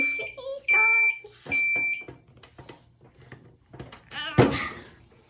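A Samsung smart oven microwave signals that it has finished with a few sharp, high electronic beeps. Clunks of handling and a door follow, with a voice faintly present.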